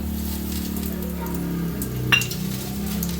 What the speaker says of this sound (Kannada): ಬಾಣಲಿ ಮಸಾಲೆ ಹುರ್ಕೊಳ್ಳೋದಾ ಈಗ?